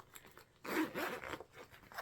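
A bag's top zip pocket being zipped, a close, quiet scratchy rasp running about a second and a half with no talking.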